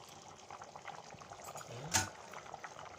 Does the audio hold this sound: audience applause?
no